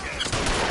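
A brief, loud burst of gunfire in a shootout in L.A. Noire, with rapid overlapping shots packed into under a second.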